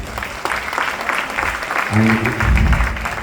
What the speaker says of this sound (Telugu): ఒకసారి అందరికి చప్పట్లు కొట్టండి స్వామి